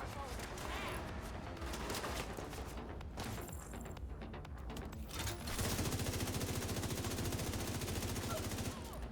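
Rapid gunfire crackles through a firefight in The Division 2, shifting into a dense, steady automatic burst near the end, with a voice talking over parts of it.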